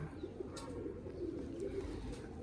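Pigeons coo softly and steadily at close range while feeding on scattered grain, a low murmuring call repeating under faint background noise with no talk.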